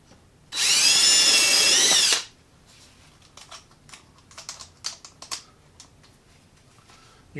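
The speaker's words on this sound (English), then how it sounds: "You can also do this with a drill in one." A power drill bores into a 5 1/2 inch wooden board for a birdhouse in one loud, steady whine lasting under two seconds, followed by faint scattered clicks and knocks.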